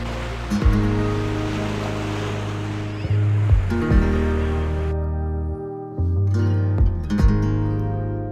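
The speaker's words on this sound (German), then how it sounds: "Und hier einfach das Meeresrauschen" Ocean waves wash onto a quiet beach in Langkawi, Malaysia, as a continuous soft surf that swells and ebbs in gentle surges.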